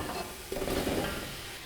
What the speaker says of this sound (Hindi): जो कबाब हमने रेडी किए हैं सीख कबाब, उसको हम इस मसाले में शामिल कर लेंगे।